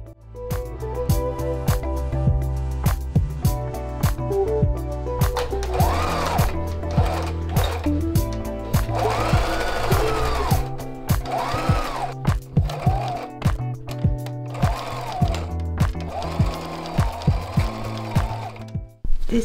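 A sewing machine hums in long runs, stitching fabric for a flight suit and bumbag, with brief pauses and thunks between bursts.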